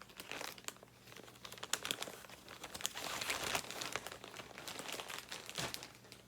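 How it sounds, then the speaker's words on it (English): Continuous close crinkling and rustling of yarn skein packaging being handled, with crackly bursts throughout. "Sorry for the rustling."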